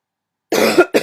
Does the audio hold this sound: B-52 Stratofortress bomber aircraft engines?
no